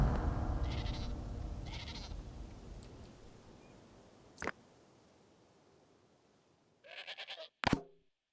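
Sheep bleat in the video game Dawn of Man, two soft bleats early over a fading rumble, then a sharp click and a louder close bleat near the end before quiet.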